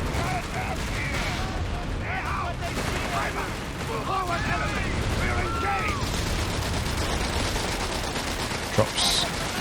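Naval bombardment artillery in Company of Heroes 3, a heavy barrage of booms and rumbling blasts under steady machine-gun fire and battlefield noise, with one sharp impact near the end.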